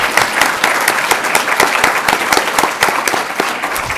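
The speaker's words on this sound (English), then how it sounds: "let's give them a warm round of applause" An audience at a workforce summit breaks into applause, a dense, steady patter of many hands clapping that continues throughout at an even level.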